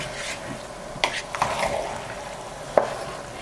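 Meat rice is stirred and mixed in a hot pan, with a soft sizzle underneath, a few scraping clinks of a utensil and a sharp knock near the end.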